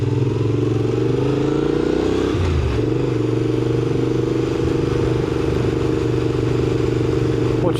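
Motorcycle engine running steadily at close range, with a clear drop in revs partway through as the rider brakes and shifts down to second gear, then a steady lower drone.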